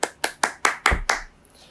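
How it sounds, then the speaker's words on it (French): Clapping rings out during a French-language church service: six sharp, evenly spaced claps in a quick rhythm, close and clear, then a sudden stop into near quiet. "Applaudissements."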